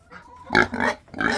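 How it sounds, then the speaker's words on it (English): A hungry pig on a family farm grunts and oinks in a few short, close bursts at feeding time. "Yeah, you're a good pig."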